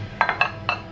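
Dishes from a barbecue clinking as they are put away into a dishwasher in a home kitchen: four quick, close, light clinks in an uneven rhythm, with no talking.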